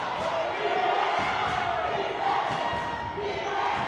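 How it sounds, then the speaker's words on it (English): The crowd at a high school girls' varsity basketball game between Tombstone and Mojave roars loudly and steadily, a dense wash of cheering voices that fills the gym without a break. "And the crowd is getting loud yet again."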